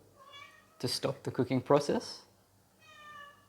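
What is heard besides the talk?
cat meowing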